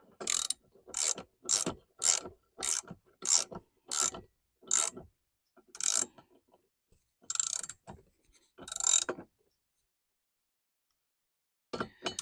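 Ratchet wrench tightening the nut over two washers on a tapered boat steering wheel shaft, a close series of crisp clicking strokes in steady rhythm, slowing with longer gaps before a final click after a pause.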